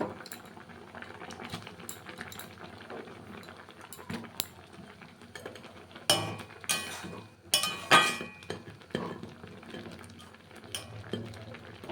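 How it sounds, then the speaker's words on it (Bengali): Water boiling in a pot for Maggi noodles, a soft continuous bubbling with occasional louder clinks and knocks of a utensil against the pot, fairly close and quiet. "জলটা বেশ সুন্দর টকবক করে ফুটছে"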